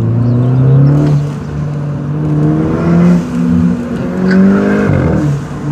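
Volkswagen Polo engine revving with a half-valve exhaust, a loud, deep droning note that rises and falls in a few surging pulls, close by and with no voices over it.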